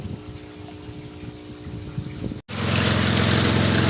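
A water pump fills a second catfish pond with a steady mechanical hum and gushing water; quieter outdoor noise gives way abruptly to a loud, constant rush and drone.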